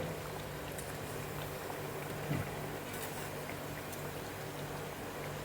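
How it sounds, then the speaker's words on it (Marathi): Raw potato vadas frying in hot oil, a steady, close sizzle and bubbling with no break, fairly soft and even throughout. "आता हे चांगले तळू देते मी"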